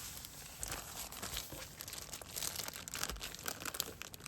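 Plastic packaging of a small diamond art kit crinkles and crackles continuously as it is opened up close, a dense rustling that fills the whole moment with no talk.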